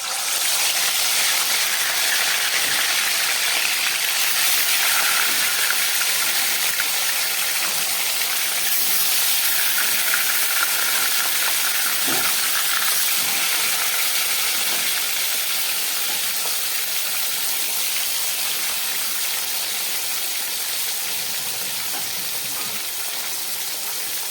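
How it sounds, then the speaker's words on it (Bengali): Rita and tengra fish frying in hot oil, a loud, steady, hissing sizzle that stays continuous and dense throughout, with no voices over it. "এবার আমি মাছগুলোকে ভেজে নিচ্ছি।"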